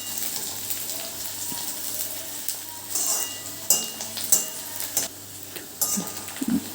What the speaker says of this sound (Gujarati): અને ડુંગળી ટ્રાન્સપરન્ટ થાય ત્યાં સુધી આપણે એને શેકીશું।